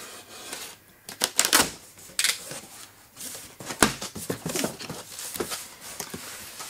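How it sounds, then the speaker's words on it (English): Clear packing tape being peeled and torn from the cardboard packaging of an NAD M17 V2i AV surround sound preamp, a close series of crackling rips and rustles in uneven bursts, with no talking. "Opening the next layer, again very, very easy because it's just clear packing tape."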